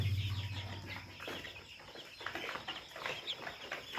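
Layer chicks at about 26 days old, clucking and cheeping while being weighed: soft, scattered calls and rustling close by, fairly quiet, with a low hum at the start.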